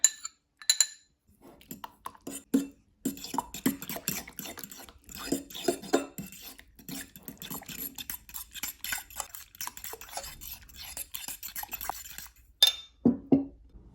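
A utensil stirring ingredients in a bowl for pancake batter with zucchini bread jam, giving repeated clinks and scrapes against the dish, steady and close, with short pauses at the start and end.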